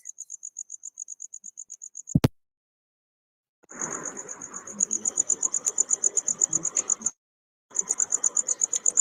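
A male cricket's calling song plays in rapid, regular chirp pulses, high and steady, broken by a sharp click and two pauses before resuming, clear and close with no talk.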